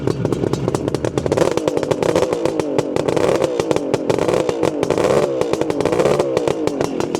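A Suzuki GT380 two-stroke triple motorcycle engine runs steadily nearby. Its loud, raspy, buzzing idle crackles without a break, and there is no speech over it.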